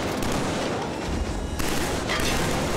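Sniper gunshots ring out during a battle in the sci-fi shooter Killzone 3. Two sharp, loud cracks land about half a second apart over a dense background of combat noise.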